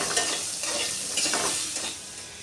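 Cut potatoes frying with salt and turmeric in a pan, a close steady sizzle broken by soft scraping strokes as they are stirred, no voices.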